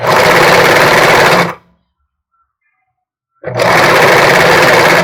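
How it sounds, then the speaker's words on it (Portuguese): A sewing machine stitches elastic onto a bra, running loud and close in a fast continuous whir, then stopping for about two seconds of silence before starting again. "eu prefiro pregar dos dois lados para ficar mais forte a costura, ficar mais resistente"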